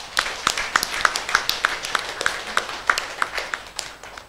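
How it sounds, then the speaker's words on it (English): A congregation at a Catholic Mass applauds, with a steady run of crisp, closely spaced claps from many hands that hold an even level for several seconds with no voices over them. "let us show our love and devotion to the Lord by giving him a round of applause"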